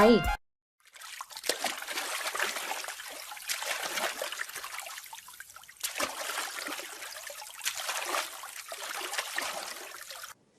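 Water sloshing and trickling in repeated waves as paddles dip and pull, steady and close, after a brief opening sound.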